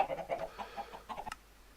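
Chickens cluck in the Minecraft modpack Agrarian Skies, a short run of soft, close clucks and murmurs that ends in a brief sharp squawk, then goes quiet.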